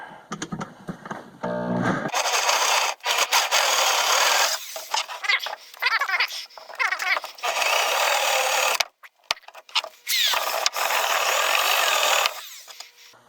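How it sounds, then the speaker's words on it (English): Power drill boring into wood with a Forstner bit for a tripod build, loud sustained grinding in several long bursts separated by brief pauses, close up with no talk. "Now, we're going to take our Forstner bit."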